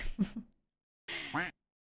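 A duck quack sound effect plays on a live stream, two short nasal quacks heard close and clear with silence between them.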